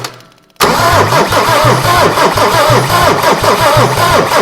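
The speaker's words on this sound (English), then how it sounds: "Right, shall we go for turning over and then we'll see if we get anything come out in the injectors." A Mercedes OM diesel engine on test turns over loud and close, its starter cranking in a steady rapid rhythm of heavy compression pulses that begins abruptly after a brief quiet moment.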